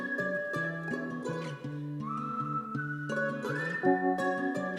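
A whistled melody trades phrases with a bright plucked charango over a steady keyboard beat, with notes stepping and gliding through a short, clear passage of music.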